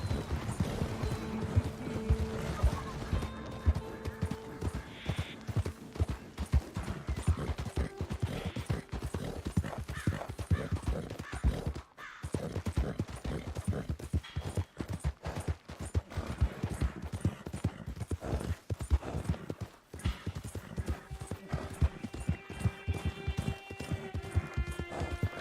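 Horse hooves pounding in steady galloping rhythm in Red Dead Redemption 2, a dense, continuous clatter lasting the whole stretch with brief gaps, accompanied by faint game ambience and occasional tonal music notes.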